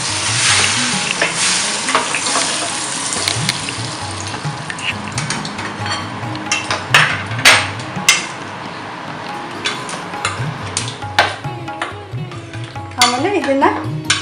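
Carrots are stirred into a hot spiced tempering, bursting into a loud sizzle with repeated scraping and clinks of a spoon against the pan in an uneven rhythm.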